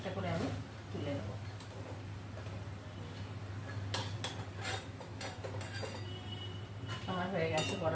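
Fried flattened-rice pakoras being lifted one by one out of a pan, with light metallic clinks and taps of a utensil against cookware over a low steady background hum, quiet and close.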